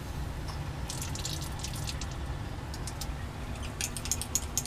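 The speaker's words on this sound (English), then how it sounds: "I'm just going to add a little bit of water" Water is added to sodium hydroxide in lab glassware, producing faint trickling and small dripping splashes in short clusters over a low background hum, close and quiet with no talking.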